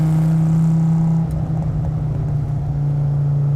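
A 568 WHP Dodge Viper SRT-10 engine, loud and close from inside the car, holds a steady deep droning note under acceleration, then shifts to a rougher, crackling rumble as the throttle eases, with no talking.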